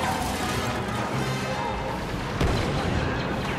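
Blaster gunfire and booming battle noise in Star Wars Battlefront, a dense continuous rumble of shots with a heavier impact near the end, under a talking voice.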